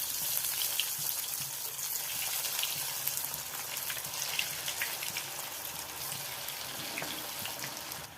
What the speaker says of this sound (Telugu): ఆయిల్ హీట్ ఎక్కిందండి, హై ఫ్లేమ్లో పెట్టుకొని ఇవి వేసుకోవాలి.